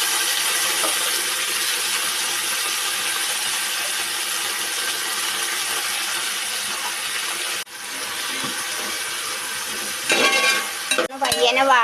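Long-cut vegetables for Kerala aviyal are stirred in a hot pan, giving a steady close sizzling hiss that shifts into scraping and clattering stirring toward the end.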